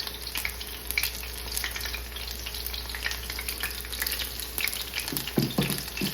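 Beer-battered lobster tails fry in hot oil with a continuous close crackling sizzle and scattered pops, heard alone without talk.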